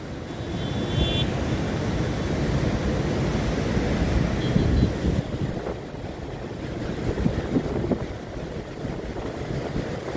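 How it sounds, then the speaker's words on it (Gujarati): Machchhu river in flood, running bank to bank as water overflows the dam at Wankaner, making a steady loud broadband rush with wind buffeting the microphone throughout. "મચ્છુ નદી બે કાંઠે જાય છે"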